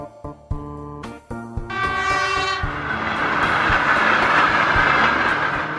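A train rolls across a railway crossing, its horn sounding in several bursts before a loud, steady rumble and rattle of the wagons passing close by.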